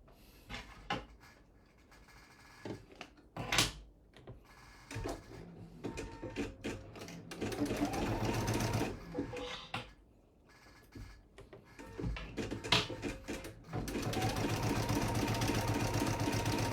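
Embroidery machine stitching a basting line down the middle of fabric for an in-the-hoop wrapper pouch, a steady mechanical whirring in sustained runs broken by short pauses, clicks and handling knocks.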